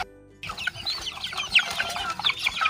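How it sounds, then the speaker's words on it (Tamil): Young Siruvidai native chicks about 45 to 50 days old, kept for sale on a Tamil farm, cluck and chirp continuously in a busy close flock after a short quiet start. "இப்போ 45-50 நாள் ஆயிடுச்சு இந்த கோழி குஞ்சு."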